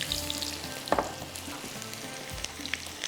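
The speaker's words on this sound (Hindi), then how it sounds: "अब इसके अंदर जाएगी प्याज," Chopped onion dropped into a pan of chicken coated with garlic, ginger, black pepper, salt, green chilies and lemon juice, frying with a steady sizzle and a sharp burst as it hits the hot oil, plus faint stirring.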